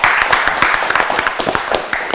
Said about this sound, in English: Give a claps to them.